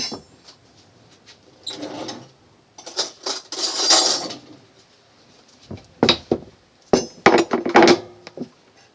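Two eggs being scrambled in a bowl, with irregular bursts of clinking and scraping as a utensil beats against the sides, loud and close with short pauses between.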